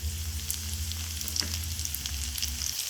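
Carrot and bean pieces fry in a pan for egg fried rice, giving a steady, close, crackling sizzle with small pops throughout, alone with no talk, over a low hum.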